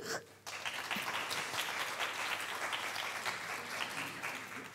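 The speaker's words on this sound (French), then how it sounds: "Je vous demande de les applaudir." An audience at a health marketing conference applauds two presenters, steady dense clapping starting after a brief pause and holding at an even level without talk.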